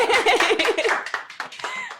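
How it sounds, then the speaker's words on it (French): Clapping from a small studio audience at a Cameroonian dating-show taping, a brief burst of scattered claps tangled with loud voices and laughter before thinning out. "Applaudissez."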